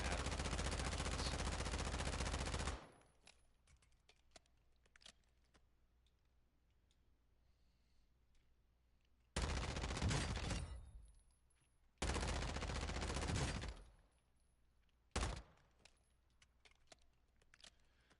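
Automatic gunfire roars in long sustained bursts in the shooter game DMZ: one loud spray, a pause, then two more bursts and a short final burst, with faint clicks in the gaps.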